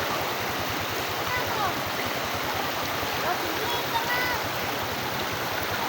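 Floodwater rushes in a continuous broad wash, steady and fairly loud, with no break or change across the whole stretch.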